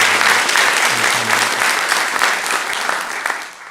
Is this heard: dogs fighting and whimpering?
no